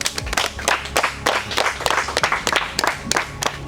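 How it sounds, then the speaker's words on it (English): Audience at a trivia competition applauding, a dense burst of many hands clapping in quick irregular rhythm, close and fairly loud, with no speech over it. "I want you guys to give yourselves a big round of applause."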